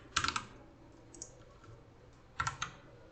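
Quiet computer keyboard typing comes in two short bursts of quick clicking keystrokes, with a single lighter tap between them and near silence around them.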